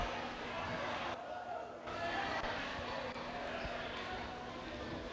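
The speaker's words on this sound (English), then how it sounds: "We have a loud crowd tonight" Noisy crowd in the stands at a high school swim meet, Vineland versus Atlantic City, a steady dense roar of voices and chatter filling the natatorium throughout with no pause.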